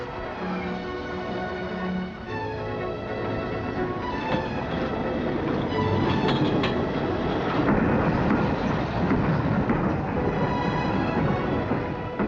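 A heavy British diesel-hauled freight train from 1963 rumbles steadily along the rails, with a constant low roar, metallic squeals and rattling wagons throughout.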